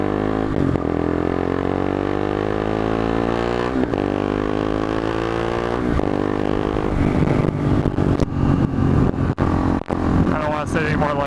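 A KTM RC390 motorcycle being ridden, its single-cylinder engine droning and rising in pitch through repeated accelerations and gear changes, close and loud, with a rider's voice talking over it and wind buffeting toward the end.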